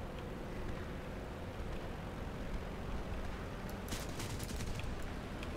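Aircraft 20mm cannon fire in the War Thunder video game: a steady loud engine roar carries throughout, broken late by a brief rattling burst of rapid cannon shots.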